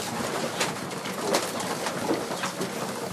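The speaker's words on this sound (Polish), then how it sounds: "Tutaj sobie te gołąbki spokojnie konsumują." Racing pigeons coo softly while eating in a loft, a steady low murmur of cooing and shuffling with no talk, continuous and fairly close throughout.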